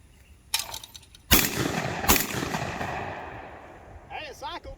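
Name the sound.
vintage semi-automatic shotgun firing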